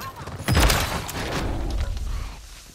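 Gunfire in a battle royale match: a loud, sharp burst near the half-second mark, followed by a lingering, rumbling tail and faint further shots.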